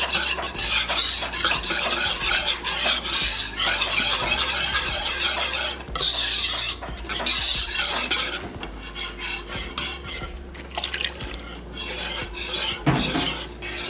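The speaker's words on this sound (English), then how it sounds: "So I just got a whisk and it ended up going great, smoothing out." A metal whisk beats a thick cheese sauce for southern-style baked macaroni in a pot, a fast continuous rhythmic scraping and clinking right up close, steady for the whole stretch with a slight bubbling underneath and no voices.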